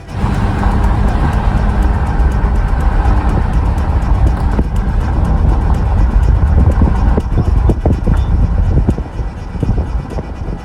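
Car driving along a fairly good road through coniferous forest near Izium in wartime Ukraine, a steady loud road and engine rumble continuing throughout with occasional bumps and knocks, no talk.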